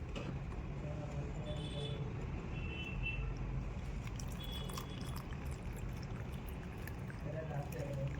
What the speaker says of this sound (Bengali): এখানে আমরা দিয়ে দেবো গরম জল